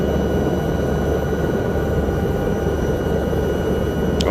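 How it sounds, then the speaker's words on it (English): A helicopter in an Alps mountain rescue mission of a flight simulator game gives a steady, loud, continuous engine and rotor drone that holds the same level throughout, with no talk. "I'm gonna land the helicopter here"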